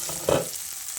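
Capsicum and tomato frying in a pan as they are stirred after being covered for a minute, a short close burst of sizzling with a scrape of the spoon.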